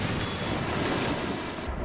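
Rushing, surging water fills the room as the level rises in the Metroid: Other M video game, a loud, steady wash of broadband noise that continues without talk.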